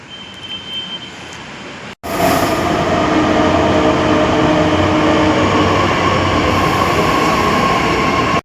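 A Pune metro train runs near PMC station: a short quieter stretch gives way to a loud, sustained rumbling roar of the carriages at close range, with no talking.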